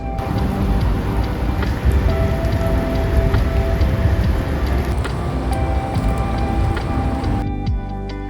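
Steady, heavy rain pours down in a dense continuous hiss, loud and close, with drops pattering on a surface throughout.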